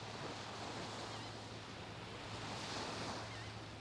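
Ocean waves wash onto a beach in a soft continuous hiss and rumble, faint and steady, with a slight swell near the end and no voices.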